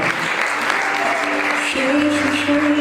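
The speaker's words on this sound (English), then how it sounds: "Clap your hand." Wedding guests at a Mariage ceremony clap their hands in a loud, sustained burst, with music tones and voices running underneath the applause.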